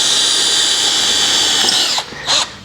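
A power drill whines steadily at high pitch while boring through a broken bolt, then slows and stops with a brief final burst, loud and close.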